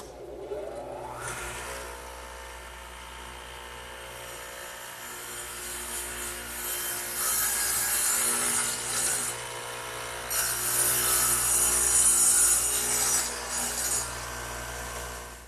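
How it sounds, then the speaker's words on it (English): Radial arm saw fitted with a dado head of two angled blades plowing out material from wood, a steady loud broadband cutting roar that swells in intensity partway through, with no talking. "the radial arm is set up with a dado head, which is just 2 blades at an angle to one another, so they plow out material"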